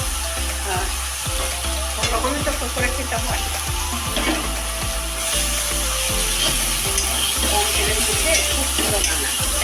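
Chopped onions fry in a little oil left over from frying prawns, making a continuous close sizzle broken by repeated scraping strokes of a stirring spoon.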